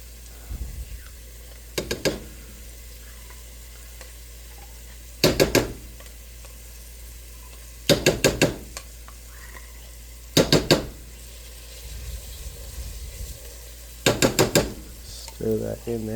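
Tomato paste and sauces are stirred in a frying pan for chicken parm, a low simmer broken by sharp, repeated clusters of spoon scraping and clinks against the pan, with no talk.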